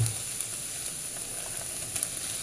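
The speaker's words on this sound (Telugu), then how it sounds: "ఇప్పుడు మనం దీంట్లో క్యాబేజ్ వేసుకుంటున్నాము." Cabbage hits a hot pan for an Andhra cabbage tomato curry, producing a steady bright sizzle with faint crackles and a few small pops throughout, no talking.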